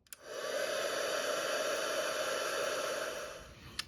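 A heat tool blows over freshly stamped ink on a card, a steady, close whirring hiss that clicks on, runs for about three and a half seconds, then clicks off.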